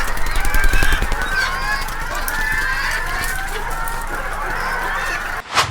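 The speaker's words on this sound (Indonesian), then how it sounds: "ngambil ayam dari baterai" Chickens being caught from battery cages and put into baskets squawk and cluck loudly in a dense, agitated chorus, with scattered clattering and a sudden rustle at the end.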